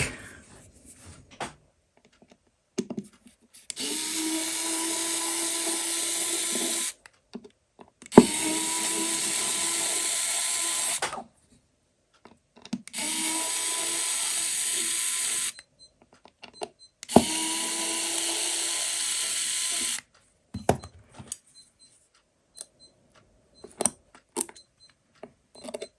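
Back of a 1994 Casio remote control watch being unscrewed: four whirring bursts of about three seconds each, separated by pauses filled with small clicks and handling taps, all close and clear.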